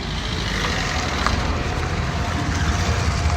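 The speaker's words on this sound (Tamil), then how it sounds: "டிராஃபிக் ஜாமாக இருக்குது" Busy street traffic in a crowded market area lined with clothing shops, a steady wash of engines and road noise with a faint horn-like tone midway, continuous and moderately loud.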